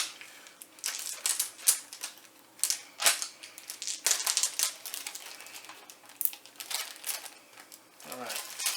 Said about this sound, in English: Let's put them back in the bag here so I don't lose them